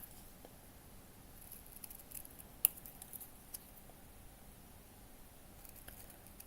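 Small scissors snipping out paper pieces for a miniature room box: quiet, sparse snips at close range, with one sharper cut standing out midway against a faint background.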